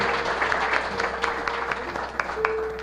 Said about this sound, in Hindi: और एक और ताली हो जाए परमेश्वर के लिए